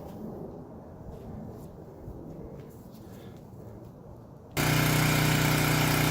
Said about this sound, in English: we're going to fire up the pressure washer